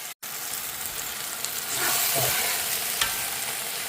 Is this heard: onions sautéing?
yes